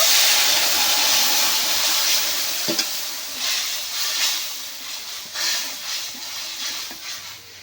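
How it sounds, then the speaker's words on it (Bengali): Mustard paste stirred into a turmeric-spiced curry for shorshe ilish in a pan, giving a steady close sizzle and hiss with soft stirring scrapes and a brief clink near the middle. "সর্ষে এই ছেঁকে রেখেছিলাম দিয়ে দেব"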